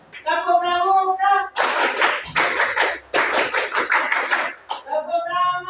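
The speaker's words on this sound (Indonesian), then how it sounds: "Tepuk pramuka." Students at a high school do the scout clap: bursts of sharp, rhythmic group clapping in quick patterns. Spoken or chanted voices come before and after the clapping, with a brief pause between two clapping sequences.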